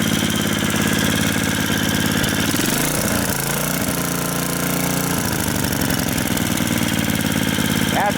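A small engine runs loud and close, revving up and settling as the throttle responds after a bent linkage is straightened, a continuous rough idle with brief rises in pitch.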